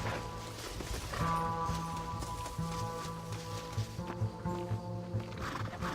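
Horse hooves walk in the video game Red Dead Redemption, a soft, steady clip-clop that grows more distinct toward the end, over sustained background music tones.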